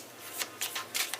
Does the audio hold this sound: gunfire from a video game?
no